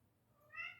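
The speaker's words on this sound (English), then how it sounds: "Pete, you may hear my cat Pete in the background." A house cat gives a single short, faint meow, rising briefly out of a quiet indoor room.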